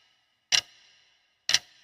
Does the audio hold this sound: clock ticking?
yes